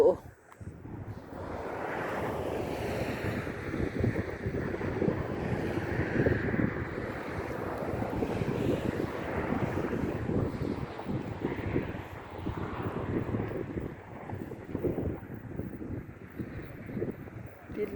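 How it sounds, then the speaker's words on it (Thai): Wind and surf along the Atlantic Ocean coast at a roadside stop between Key West and Daytona, with steady broadband roar, buffeting wind noise on the microphone, and waves washing continuously throughout; someone talks over it. "แวะข้างทาง ดูชายฝั่งมหาสมุทรทางด้านนี้เป็นมหาสมุทรแอตแลนติกนะคะ"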